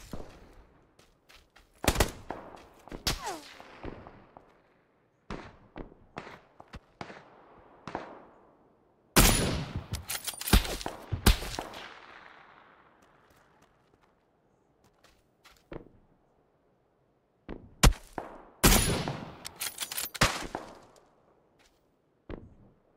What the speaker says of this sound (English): the guy on the top of the hill shooting at us